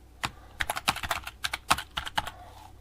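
Rapid, close clicking on a computer keyboard as a password is typed, a quick uneven burst of about a dozen crisp keystrokes with nothing else heard.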